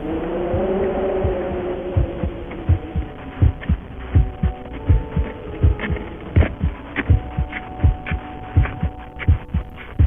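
A human heartbeat repeats in a steady rhythm of low thumping beats, loud and close over a constant hum, with no voices.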